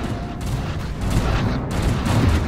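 A space fleet opens fire in the strategy game Stellaris: a loud, rapid fusillade of overlapping shots and booms crackles without pause, with no voices over it.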